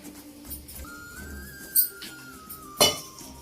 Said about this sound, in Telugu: గిన్నె పెట్టుకొని